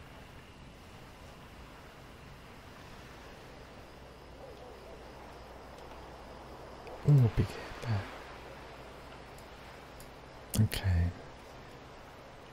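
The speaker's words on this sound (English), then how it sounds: "sound of the lapping water again. It's quite loud." Steady lapping-water ambience from World of Warcraft Classic runs as a soft, continuous wash, with someone briefly speaking over it twice.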